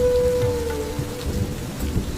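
Steady rain falls at night with a low rumble of thunder beneath it, a continuous loud wash with no voices.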